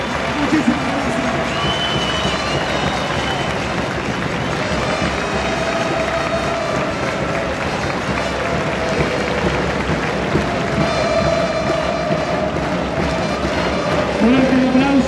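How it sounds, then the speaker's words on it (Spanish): A crowd at a political rally for YPF's anniversary in Ensenada, Argentina applauds and cheers steadily and loudly, with voices mixed into the sustained clapping. "Fuerte el aplauso"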